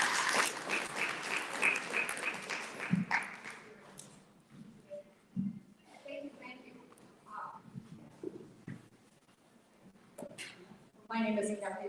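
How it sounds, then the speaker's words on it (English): Audience applause at a curriculum presentation event, a short burst of clapping that fades over the first few seconds, followed by quieter stretches, then a voice speaking. "Give her a round of applause."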